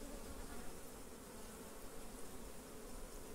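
A swarm of Apis honey bees buzzes loudly and steadily throughout, a dense continuous hum with no pauses, during a hive capture from the stump of a cabiuna tree.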